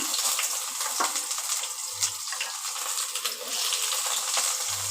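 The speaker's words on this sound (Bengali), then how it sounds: "তেলটা আমার গরম হয়ে গেছে পেঁয়াজ কুচিটা আগে দিচ্ছি" Chopped onion dropped into hot oil for a Bengali home-cooked dish, giving a steady, close sizzling hiss that holds for the whole stretch, with a few faint clinks from the pan.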